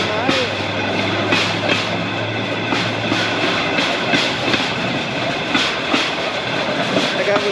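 A Rail Explorers pedal-powered rail bike rolls along railroad tracks near Las Vegas, giving a steady, loud rumble with regular clickety-clack beats from the rail joints throughout.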